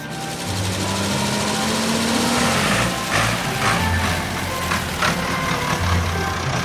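A tow truck's engine drones steadily while hauling a load, its low rumble continuous with slight shifts in pitch.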